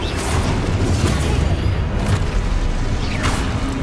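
A Confringo blasting spell explosion in the video game Hogwarts Legacy, a dense, loud rumbling boom with crackling debris and a brief whooshing sweep, sustained and heavy throughout the few seconds.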